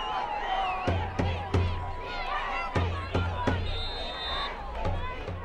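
Home crowd at a high school football game between Park City and Sky View, a steady murmur of voices with scattered sharp thumps and a brief rise of reaction, mid-distance.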